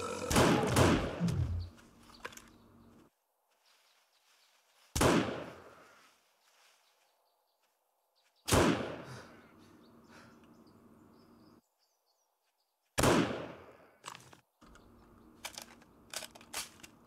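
Gunfire in the survival video game 7 Days to Die: four sharp, loud shots spaced several seconds apart, each decaying with a short tail, separated by near-silent gaps.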